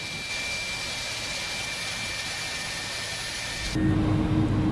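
An airliner jet engine spools up in a flight simulator game, a steady loud broadband roar and whine near San José, shifting near the end to a deeper low rumble with a steady tone.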